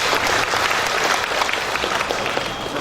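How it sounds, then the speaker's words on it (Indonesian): Applause from an audience at a Balinese Hindu Dharma Santhi gathering with a religious sermon, a dense, steady clapping that fills the whole stretch loudly and evenly, with no voices over it. "Tepuk tangan untuk baik"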